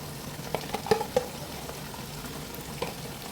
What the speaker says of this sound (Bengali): এখন মশলাটাকে আমি ভালো করে নেড়ে চেড়ে একেবারে ভুনা ভুনা করে নেব